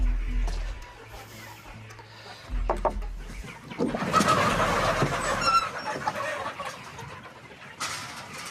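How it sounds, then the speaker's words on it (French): Free-range yellow Landes chickens outdoors in the early morning, with soft clucks and fowl calls spread through a busy, moderately loud open-air scene and some low rumbling noise. "Au petit matin, les poulets jaunes des Landes retrouvent la liberté."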